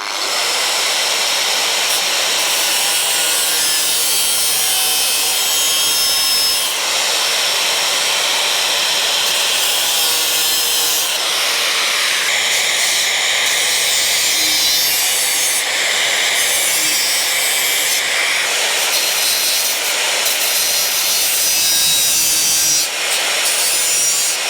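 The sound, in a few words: cutting into metal end pieces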